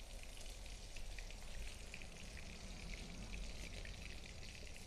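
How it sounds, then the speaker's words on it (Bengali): Banana flower fritters fry in oil with a steady, dense sizzle and fine crackle that holds at an even level throughout, with no voices. "আমি এগুলা সবগুলো একবারে ভেজে নিই"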